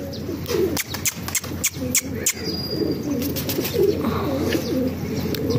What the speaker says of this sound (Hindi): ये आ रहे हैं जी कबूतर